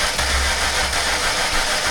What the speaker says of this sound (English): the motor did not pop off or even try and sputter